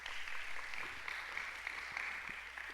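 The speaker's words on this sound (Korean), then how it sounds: "마음으로 박수로 인사할까요?" Faint, distant applause from a church congregation thanking a pastor after a sermon, a soft, continuous hiss of many hands held at a steady level throughout.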